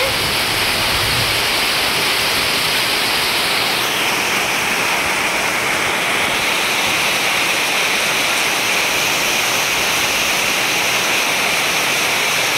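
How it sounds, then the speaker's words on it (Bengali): Heavy rain pours down outside during Eid, a steady, dense broadband hiss that runs loud and unbroken for the whole stretch with no voices over it. "বৃষ্টি হচ্ছে, প্রচুর বৃষ্টি হচ্ছে বাইরে।"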